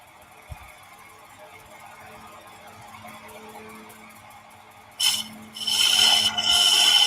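A chisel cuts into a spinning wooden spindle on a lathe, starting as a faint rasp, then turning into a loud, harsh scraping for the last two seconds.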